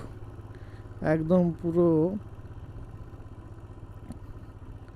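A motorcycle on a road trip runs with a steady low engine rumble and faint clatter throughout, while someone speaks briefly in the middle over the engine.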